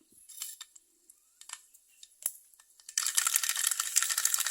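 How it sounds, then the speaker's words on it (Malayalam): Mustard seeds drop into hot coconut oil with scattered light ticks, then a steady dense crackle of popping and sizzling builds for the last couple of seconds, close and fairly quiet, with no speech. "എണ്ണ നന്നായിട്ട് ചൂടാകുമ്പം ഒരു 1/2 സ്പൂണ് കടുക് ഇട്ടൊന്ന് പൊട്ടിക്കാം"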